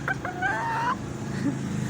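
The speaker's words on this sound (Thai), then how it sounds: "ตัวเมียไข่ดกกระเตกกระตาก ออกไข่สบายใจมาก" A hen clucks in a short burst of rising, squawking calls after laying eggs, close and fairly loud, then falls quiet against steady background noise.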